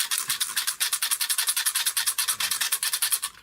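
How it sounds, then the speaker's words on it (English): Sandpaper rubbed by hand back and forth against plastic, a quick, steady series of raspy scratching strokes, close and alone. "I found the easiest way of doing that is with the sandpaper."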